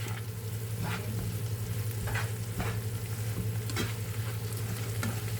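Food with a spoonful of sauce stir-fried in a pan for a healthy lunch, a steady sizzle with a low hum beneath and repeated scraping strokes of the utensil at irregular intervals, close and continuous, with no talk.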